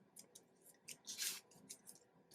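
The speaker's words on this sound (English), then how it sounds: "take your sharp scissors, and you're going to cut" Sharp scissors snipping washi tape for a mini garland, several quiet close crisp cuts with one louder snip in the middle, over a faint room background with no voices.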